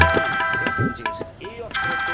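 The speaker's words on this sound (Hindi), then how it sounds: "रोनिता का फोन" A phone rings with bright electronic ringtone tones that stop midway and resume near the end, while voices talk over it in the middle.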